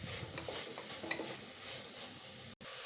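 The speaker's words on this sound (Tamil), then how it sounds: "எல்லாத்தையும் மிக்ஸ் பண்ணி விட்டுக்கலாம்." Eggplant, turmeric and asafoetida being stirred in a pot for sambar rice, with soft scraping and clinks of a utensil over a faint frying sizzle, fairly quiet and without talk.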